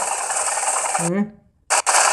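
Rapid automatic gunfire from the mobile shooter Modern Combat 3: Fallen Nation rattles loudly in a continuous burst, broken by a short gap where a voice speaks, then resumes.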